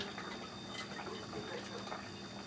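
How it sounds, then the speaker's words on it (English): Leftover cooking juice is poured out of a pan in a home kitchen, making a steady trickling, splashing stream of liquid that runs on evenly at moderate volume without talk. "Now I'm going to pour the rest of that juice, because I do not need it."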